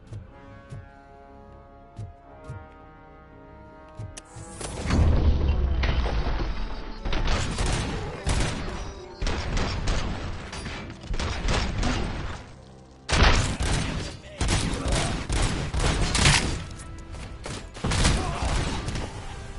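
Video game combat on PS5 with heavy grenade blasts and bursts of gunfire, loud booming explosions and rattling shots arriving in clustered waves after a quieter start.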